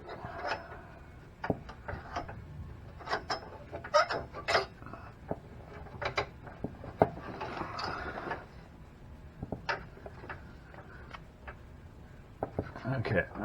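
A flaring tool with a greased bit is turned on a brake line of a G-body El Camino or Monte Carlo, giving close, scattered creaking clicks and rubbing scrapes in irregular bursts over a low background.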